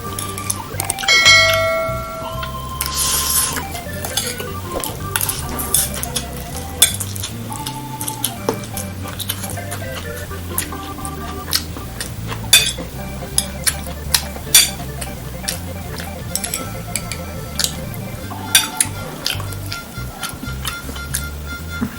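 Indomie Mie Goreng Pedas noodles mixed with celery leaves are stirred in a pan, with repeated metallic scrapes and clinks of a utensil against the pan over a soft sizzle, close and uneven.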